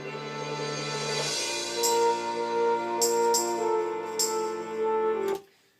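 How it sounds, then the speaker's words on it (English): Two layered cymbals struck softly with mallets, a dense shimmering metallic wash with sustained bright overtones and a few brighter swells, building steadily before cutting off abruptly near the end, with no speech. "double tracking two cymbals played with mallets, and it sounds like this."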